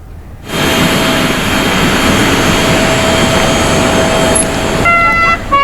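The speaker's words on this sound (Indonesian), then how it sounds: "Dengan menggunakan pesawat kepresidenan, Prabowo Subianto dan rombongan meninggalkan Brasilia pada Rabu sore waktu setempat" Jet engines of the Indonesian presidential aircraft roar steadily and loudly as the plane departs Brasilia in the afternoon, a continuous broadband whine with a few brief higher tones near the end.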